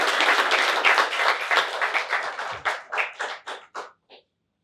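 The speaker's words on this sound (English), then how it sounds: "please give a big round of applause for Nima Sophia Tisdall" An audience applauds a keynote speaker at a startup event: dense, loud clapping that thins into scattered claps and stops after about four seconds.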